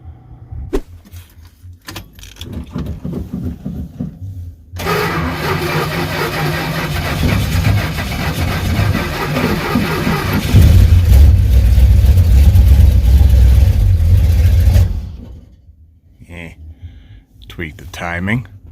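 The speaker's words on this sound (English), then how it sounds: "right now we got to get the engine running" A 1970 Dodge Charger's 413 big-block engine cranks and turns over, then runs with a steady, rising rumble for several seconds before cutting off; faint clatter around it.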